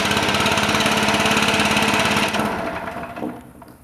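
A small engine on wildfire equipment runs at a fast steady chug, close and loud, then is shut off and sputters down to silence over the final second or so.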